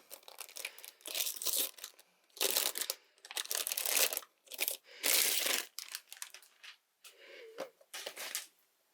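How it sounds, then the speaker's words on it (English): Loud, close crinkling and tearing of plastic packaging around wooden crochet hooks in repeated bursts, with short pauses between, no talking. "Very noisy packaging."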